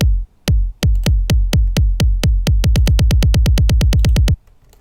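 Electronic kick drum roll for a dance-track build-up, punchy low thumps starting sparse and speeding into a rapid, evenly spaced run before cutting off abruptly.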